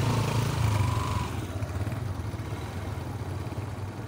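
A motorcycle rides along a mountain road, its engine a continuous mid-pitched rumble up close that eases slightly after the first second and then holds steady.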